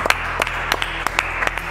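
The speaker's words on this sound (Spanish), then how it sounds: "Bueno, pueden aplaudir o no sé." Clapping from a small group after a foil fencing demonstration at a fencing class, a run of sharp, uneven claps close by that carries on steadily without talk.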